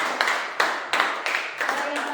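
A class audience gives a short round of applause, several rhythmic bursts of group clapping close by, about four pulses in quick succession.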